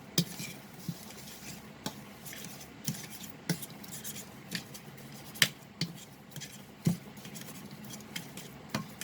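Mashed ripe bananas being stirred with sugar in a bowl produce soft, wet mixing under a series of sharp spoon clicks and taps against the dish, spaced irregularly and heard close up.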